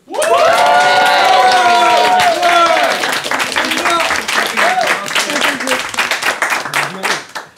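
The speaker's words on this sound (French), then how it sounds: "un tonnerre d'applaudissements pour le tétard qui roule sur cette compétition en menant 5-2" Audience applause and cheering at a quiz-style competition in Montagne-Saint-Émilion, a dense wash of clapping with voices rising over it, steady and loud before thinning into scattered claps toward the end.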